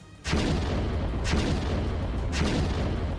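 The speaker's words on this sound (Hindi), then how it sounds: "इशारा मिलते ही तोप से गोले दाग दिए गए" A Russian artillery cannon fires shells in a war setting, giving three loud, heavy booms about a second apart, each with a long rumbling roar that keeps the sound dense throughout.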